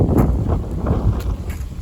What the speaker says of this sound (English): Ooh, windy, windy, windy.